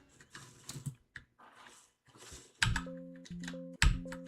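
Keys on a computer keyboard are pressed one after another in a few quick, close taps that are being tested, with short pauses between and a faint voice murmuring in the background.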